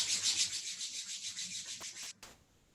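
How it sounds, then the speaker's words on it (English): Palms rubbing together briskly during a yoga class make a soft, rhythmic swishing friction in quick, even strokes. It stops abruptly, followed by a brief muffled brush, close and with no talk. "Starting to rub them together to generate some heat."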